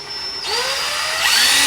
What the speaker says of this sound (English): I'm going to use a smaller drill bit just to start with